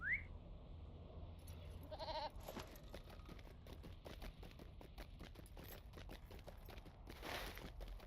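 A goat mount in Lord of the Rings Online gives a short bleat near the start, followed by a run of quick, light hoof clatters and clicks, with a faint rumble under them and a brief burst near the end.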